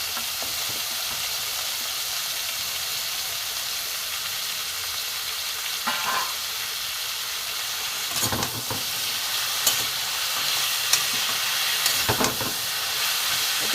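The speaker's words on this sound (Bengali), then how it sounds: "একটু ভাজা হোক।" Taro stolons sizzle steadily in hot oil with fried onion and garlic, a continuous hiss broken by a few scraping stirs of a spatula in the pan late on.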